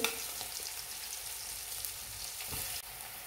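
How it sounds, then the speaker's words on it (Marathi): Ground chili paste with a little salt and cumin frying in hot oil in a wok gives a steady, bright, close sizzle with a small crackle near the end. "आता आपण वाटलेली मिरची सगळी कढईमध्ये टाकून घेतलेली आहे"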